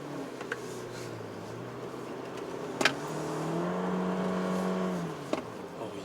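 A slow car passes by on a road, its engine hum rising and swelling over a few seconds, then fading, heard from inside a 2019 Toyota Corolla Altis with a 2-liter naturally aspirated engine.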